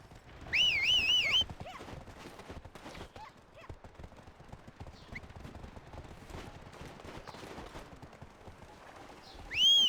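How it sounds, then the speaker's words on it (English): Rapid hoof clip-clops of a galloping horse in Black Desert Online run steadily under a busy game soundscape, with a tonal whinny-like chirp near the start and end. "Try sprinting across an open field on the back of a horse."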